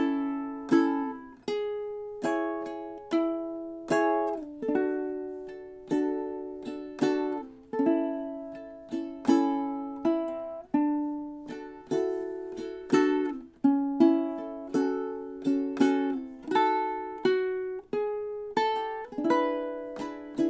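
Solo ukulele plays a song from measure 11 through the repeat, a steady stream of plucked, ringing strummed chords, close and clear with no voices.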